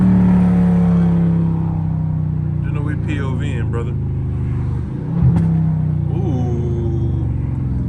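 A loud Dodge Scat Pack's engine rumbles from inside the car with someone talking over it, then a few sharp exhaust pops crackle near the middle of the drive.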